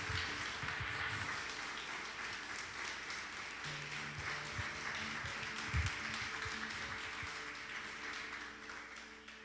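A church congregation applauds together in sustained, dense clapping that slowly fades, while an organ or keyboard holds soft chords underneath.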